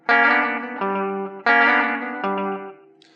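Two short distorted electric guitar phrases in rockabilly style, each a bright struck chord sliding into a lower sustained one, mimicking a piano fill.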